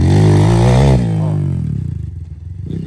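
A dirt bike engine revs loudly up close during trail-riding practice, then drops to a lower pulsing idle that chugs rhythmically as it fades slightly.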